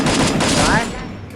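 Gunfire in the mobile battle game Free Fire, a quick burst of rapid shots lasting about a second that trails off, with a voice speaking over it.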